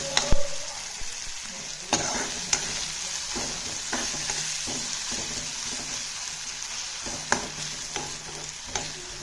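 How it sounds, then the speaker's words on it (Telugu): Vegetables fry in a pan for masala vegetable Maggi, giving a continuous bright sizzle broken by repeated clinks and scrapes of stirring, close and moderately loud, with no voices. "మంచిగా వేగనివ్వాలి"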